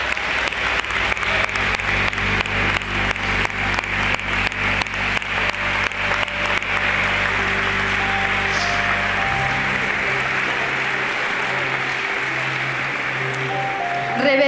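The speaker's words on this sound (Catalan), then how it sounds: "Ens acomiadem també amb un fort aplaudiment" Strong, sustained applause from a crowd at a town festival queen and court presentation, dense and even throughout, with a faint tone of music underneath.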